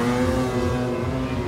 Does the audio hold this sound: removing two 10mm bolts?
no